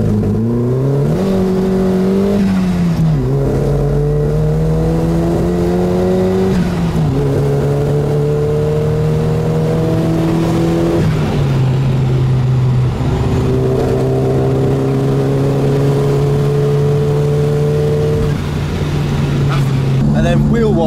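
A turbocharged 300 hp 2.3L Mazda Miata engine revs and accelerates loudly through several rising pulls, each ending with a brief dip before climbing again, with people talking over it.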